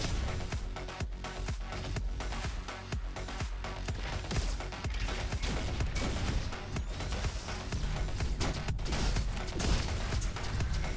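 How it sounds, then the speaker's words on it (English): Rocket-carrying robot enemies in Roboquest bursting apart under gunfire, a dense run of sharp bangs, blasts and crashes firing in quick irregular succession, loud and continuous throughout. "the rocket guys blow up when I hit them"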